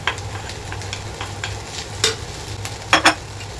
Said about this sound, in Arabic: بعد ما شوحت في الجزر شويه كده يعني حوالي دقيقتين 3 بنزل بالبطاطس